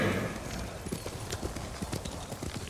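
A horse gallops up after being called in the video game Ghost of Tsushima, its hooves drumming in a steady, close clip-clop rhythm that fills the whole stretch, with a brief whinny near the start.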